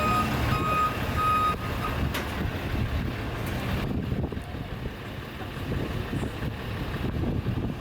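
A tow truck reversing on a city street in Washington DC, its backup beeper sounding repeatedly at a steady pace over a loud engine rumble and traffic noise, with cars getting towed.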